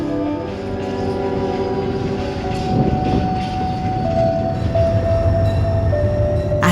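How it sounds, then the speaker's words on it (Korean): A train on Korea's Gyeongjeon Line rumbles steadily along the tracks at under 20 km/h, loud and close, with metallic rattling and a brief high squeal near the end. "하루 한 번 떠나는 보감행 열차가 달립니다"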